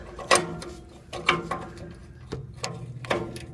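A ratchet clicks in short bursts as it turns a slotted oxygen sensor socket on a Ford F250 Super Duty, three or four distinct close ratcheting strokes with quiet pauses between them.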